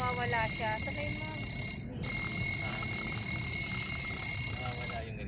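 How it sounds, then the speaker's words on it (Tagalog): An alarm clock rings inside a Suzuki APV during manual driving practice: a steady, piercing electronic tone that drops out briefly near two seconds, resumes, and cuts off just before the end, over low engine and road rumble. "So ayun, nag-alarm po."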